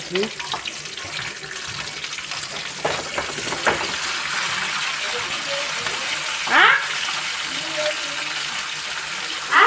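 Dried red chillies and curry leaves frying in hot oil for homemade sambar, a steady sizzle running throughout with brief louder crackles and spits near the end.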